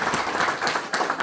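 Audience at an Indian felicitation ceremony breaking into applause, a short burst of many hands clapping in uneven rhythm at moderate volume, indoors.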